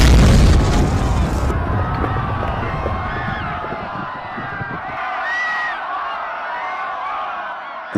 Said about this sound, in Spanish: una explosión ocurrió al otro lado del centro comercial